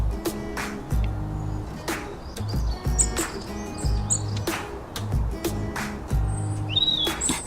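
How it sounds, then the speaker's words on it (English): Sparrow song: repeated short chirps and tweets sound at moderate distance over a low, rhythmic background hum, with several bright calls spaced through the passage. "Some birds, such as the sparrow, can sing beautifully."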